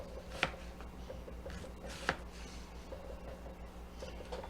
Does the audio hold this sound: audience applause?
no